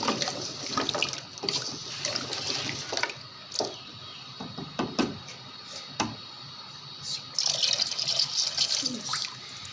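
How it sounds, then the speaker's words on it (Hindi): Water pours and splashes into a pot of cooked beef trotters, quiet and uneven, with clinks and clatter of a metal lid and utensils. "इतना पानी डालें कि जितना आपको शोरबा रखना हो।"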